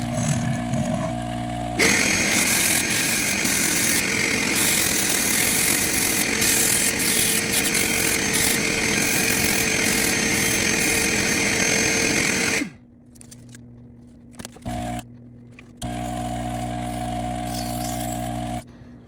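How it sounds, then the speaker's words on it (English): A power sander grinds down a replacement sport grip on a Purex pool cue, a loud continuous buzzing rasp close by that stops, then restarts briefly after a few quiet bumps. "Then sand it down again."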